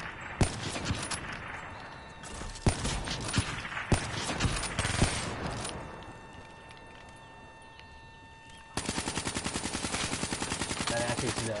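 Rapid automatic gunfire from a PS4 shooter video game, sharp bursts of shots through the first half and then a sustained fast-firing stream near the end, loud and close.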